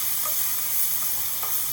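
Mushrooms and chicken sizzle and fry in a pan for chicken cacciatore, a steady close hiss with a few faint stirring clicks and no voices.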